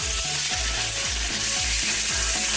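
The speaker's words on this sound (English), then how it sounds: "then when the oil start getting hot, then we're gonna put in the meat" Meat sizzles loudly in hot oil in a pan for a Philly cheesesteak, a steady dense crackle with rhythmic scraping strokes of stirring throughout.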